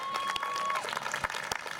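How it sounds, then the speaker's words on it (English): A crowd at an Earth Day talk claps in a short burst of applause, moderately loud and fairly brief, with a steady tone and some background noise under the clapping. "give her another round of applause"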